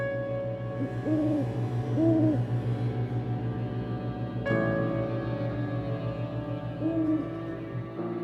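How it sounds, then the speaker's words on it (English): Owl hooting sound effect in a short audio play: several soft hoots repeated at intervals over a low steady background drone, with no voices. "Maybe it was the owls."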